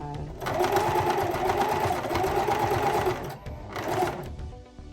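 A sewing machine runs a steady reverse stitch through wig material, whirring continuously for about three seconds, pausing briefly, then making a short second burst, loud and close.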